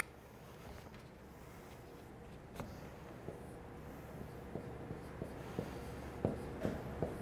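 Marker or chalk taps and strokes on a board during a lecture, faint and steady at first, then sharper, quicker taps near the end, over a quiet room.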